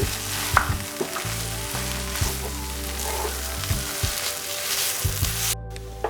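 Mashed potato mixture with red spinach for cutlets stirred in a sizzling pan, steady frying hiss with repeated scraping strokes of a spoon, close and continuous.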